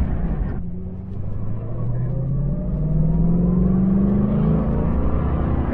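A 1968 Shelby Mustang engine revs hard and climbs through the gears on a track at speed, a loud continuous rising drone with pitch sweeps at each shift, heard close and steady without talk.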